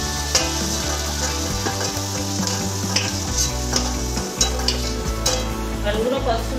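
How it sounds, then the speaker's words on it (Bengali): Potatoes frying in oil for a Bengali-style chicken kosha, a steady close sizzle that runs the whole time with occasional stirring scrapes and clinks of a utensil against the pan, no voices. "লাল লাল করে ভেজে নেব, আলুগুলো ভাজা হয়ে গেছে"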